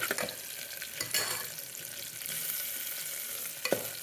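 Tempering spices crackle and sizzle in hot oil as they are stirred, a steady frying hiss with a few sharper scraping bursts from the spoon, close up and with no voices.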